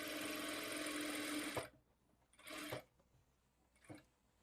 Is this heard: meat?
no